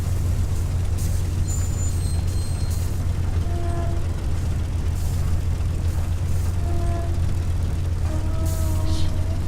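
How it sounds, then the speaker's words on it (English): Pneumatic air brakes on a Spitfire taxiing in the A2A flight simulator give repeated short hissing releases over a steady, loud low engine drone, with a few brief tonal squeals scattered through. "Pneumatic brakes, the air pneumatic brakes, they really sound cool"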